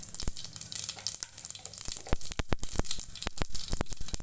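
Mustard seeds and cumin crackle and sizzle in hot oil while tempering for a Tamil Nadu-style rasam: a continuous close hiss with sharp popping spurts throughout.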